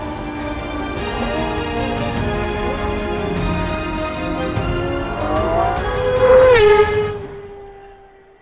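A GMA T.50 or McLaren F1 sports car engine revs hard under full throttle, its pitch climbing steadily, then a sharp rise, an upshift and a drop to a lower tone as it fades.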